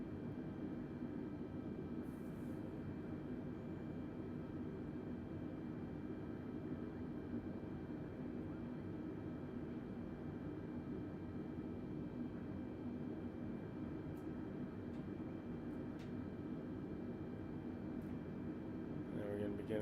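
A Delta Airbus A320neo airliner taxis with a steady, muffled low engine drone heard from inside the cabin, constant and unbroken throughout, with faint occasional clicks.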